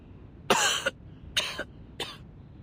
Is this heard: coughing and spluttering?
yes